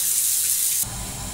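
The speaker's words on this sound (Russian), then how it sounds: "вода льется" Water runs steadily from a tap supplied by a Navien gas boiler in a bright, hissing stream, then the sound abruptly shifts to a deeper, fuller flow.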